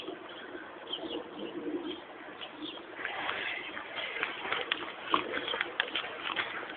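Pigeons coo softly in the background, a low repeated burble mixed with faint street ambience and a few chirps.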